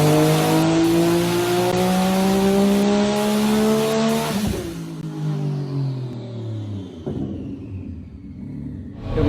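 Nissan GTR engine roars under load, rising in pitch across a sustained pull, then backs off with a lower rumble and a few quieter surges; loud and steady, no talk.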